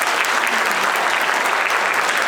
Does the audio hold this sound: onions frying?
no